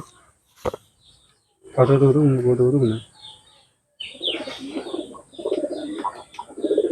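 Pigeons cooing close by in a loft in low throaty bursts, with chirps and other bird sounds around them; a sharp click comes early.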